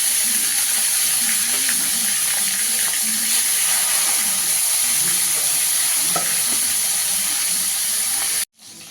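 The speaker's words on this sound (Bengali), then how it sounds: "এখানে মাছটা একটু আমি হালকা করে ভেজে নেবো, বেশি কড়া করে ভাজবো না।" Katla fish shallow frying in oil in a wok gives a steady bright sizzle and hiss with occasional stirring scrapes, close and continuous before cutting off abruptly near the end.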